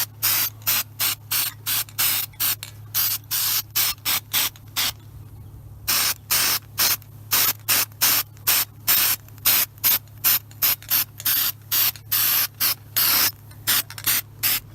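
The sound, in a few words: spray painting a strut bar with spray paint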